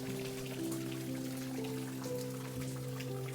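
Rain falls near a stingless bee hive, a soft steady patter of drops on surfaces heard quietly and continuously with no voices.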